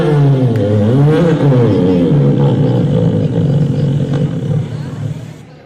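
A voice imitates a motorbike engine, a loud, steady growling rev that wavers in pitch for several seconds before tailing off at the end.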